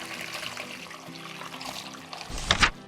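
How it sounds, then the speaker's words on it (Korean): Beef shank broth boiled with seasonings is poured through a strainer in a home kitchen: a soft, steady liquid trickle gives way to a brief, louder splashing pour near the end. "채반 올려서 육수를 부어주세요"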